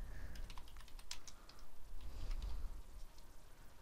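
Typing on a computer keyboard to enter a filter name in stock-analysis software, a quick run of light key clicks, close and fairly soft, with no voices.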